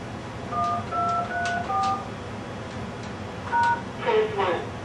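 Telephone keypad tones punch in a voicemail password on an Asterisk phone system, a series of short distinct beeps in two groups, clear over a low hum.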